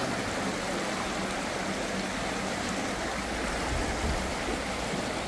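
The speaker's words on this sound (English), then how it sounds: "Eating by the waterfall." A waterfall and river pour steadily beside an outdoor dining spot near the Atlas Mountains outside Marrakech, Morocco, a constant full rushing roar with no breaks and no voices.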